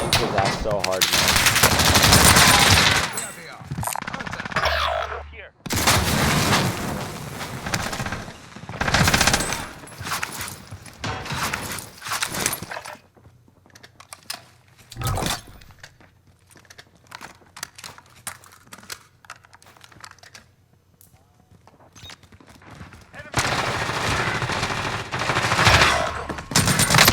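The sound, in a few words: nail gun firing in video game Cold War Warzone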